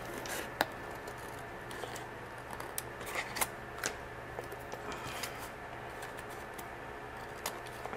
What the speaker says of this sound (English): So I'm just going to cut just right along, just cut off all the excess.